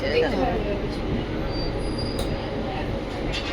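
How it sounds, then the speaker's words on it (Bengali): A train rolls steadily out of Yeshwantpur station, heard from inside the carriage as a continuous rumble with faint wheel squeals, under some speech. "ট্রেন যশবন্তপুর থেকে ছেড়ে দিয়েছে।"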